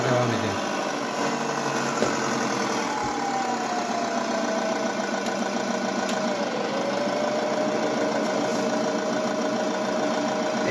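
A modified Opel Corsa engine idling at a fuel stop, giving a continuous, steady mechanical drone with a faint rattling texture that holds evenly for about ten seconds, with no clear talk over it.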